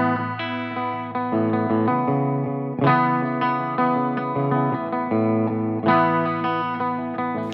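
An Epiphone Olympic Special electric guitar played through heavy distortion with chorus and echo effects, strummed chords ringing out in a steady rock rhythm, loud and close with no talking.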